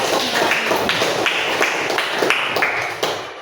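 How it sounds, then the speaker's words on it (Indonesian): Audience in a classroom presentation setting applauds, a loud, continuous wash of many hands clapping close by, holding steady before easing off at the end. "Beri tepuk tangan untuk laki-laki."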